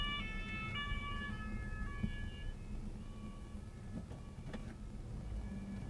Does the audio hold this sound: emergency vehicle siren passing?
yes